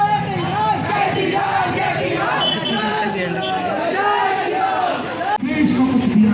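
Dense chatter of a large crowd of school children and teachers at a Ram temple consecration event, loud overlapping voices and shouts throughout, with nearby talking mixed in.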